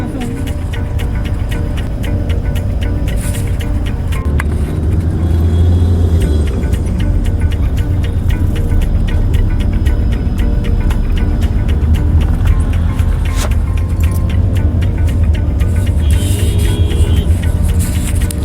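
Heavy road traffic crawls through a Mumbai street: a steady close rumble of car and bus engines with passing vehicles and a few sharp knocks, continuous throughout.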